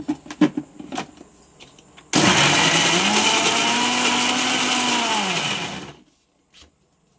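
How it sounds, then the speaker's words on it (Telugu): Sharp clicks and clatter, then a mixer grinder grinding tomato chutney roars loud and steady for about four seconds with a rising whine before cutting off. "ఇప్పుడు మిక్సీ చేసేద్దాం।"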